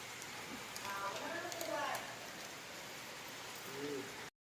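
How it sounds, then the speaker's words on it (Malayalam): Heavy monsoon rain falls outdoors as a soft, continuous hiss in the background, while people talk quietly over it before the sound cuts off. "അതാണ് ഇപ്പോൾ ഇവിടുത്തെ മഴ. നല്ല മഴ കേട്ടോ."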